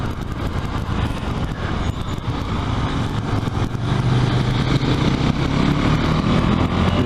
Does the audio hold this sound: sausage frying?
no